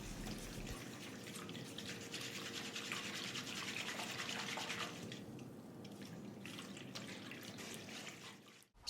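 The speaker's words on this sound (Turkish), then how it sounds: "Maya ve şeker eriyinceye kadar biraz karıştıracağım." Yeast and two spoonfuls of sugar stirred into water for poğaça dough make a steady, close scraping swish for about five seconds, then a softer, sparser scraping to the end.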